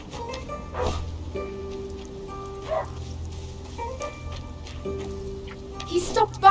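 A dog barks a few times amid game music and ambient sound in the video game A Plague Tale: Innocence, with a sharper yelp near the end; speech is present intermittently.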